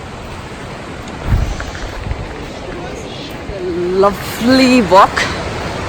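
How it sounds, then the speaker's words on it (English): A waterfall near a busy hiking trail gives a steady, broad rush of falling water throughout, while people talk nearby over it. "I can see the waterfalls."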